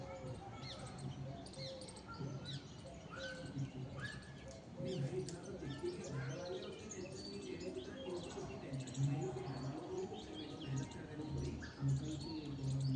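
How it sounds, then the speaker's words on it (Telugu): Many birds chirp and call in a home garden, a busy mix of short tweets and coos, fairly faint and heard under close conversational talk. "ఎన్ని పక్షులు అరుపులు చూడండి"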